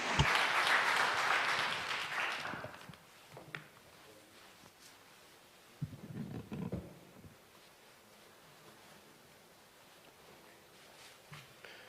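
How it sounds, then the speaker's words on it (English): Audience applause at an international development forum, greeting an ambassador as he comes to the stage; a broad burst of clapping that fades after about two seconds, followed by quiet room noise and a few scattered sounds. "Please greet him with a warm round of applause."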